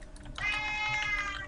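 A cat lets out one sustained, fairly loud meow that starts abruptly and holds steady against quiet background noise, with faint clicking underneath.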